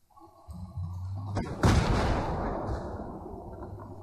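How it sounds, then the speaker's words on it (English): Battlefield 3 video game audio: a deep, rumbling explosion bursts out and decays into a long roar, with scattered gunfire-like crackle before it. "there's so many explosions"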